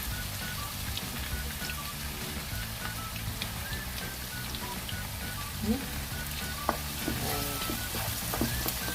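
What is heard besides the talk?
sliced onions added to sizzling oil with dry spices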